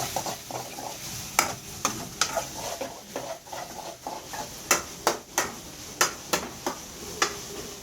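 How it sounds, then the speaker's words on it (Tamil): Onions sautéing in a pan while being prepared for a fish puttu dish, with a steady low sizzle and repeated sharp scraping and clinking of a spoon stirring against the pan, close and without talk. "வெங்காயம் எல்லாம் வதங்கணும்."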